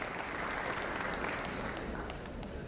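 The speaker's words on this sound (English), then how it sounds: "We give them both a round of applause" Audience applause at a 1995 sports hall of fame ceremony in Peoria, honouring a couple: steady, dense clapping filling the room at an even level throughout, with no voices rising above it.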